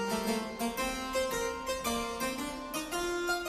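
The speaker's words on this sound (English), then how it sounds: "So a harpsichord looks like this" Bright, plucked harpsichord notes play a lively melodic line, each note sharp and quickly decaying, clear and close with no voices.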